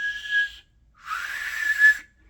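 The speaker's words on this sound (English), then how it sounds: "So as you're shifting the mid-tongue whistle" A loud, steady mouth whistle made with the tongue arched mid-mouth and no fingers, sounding as two sustained tones separated by a short pause, the second longer and breathier.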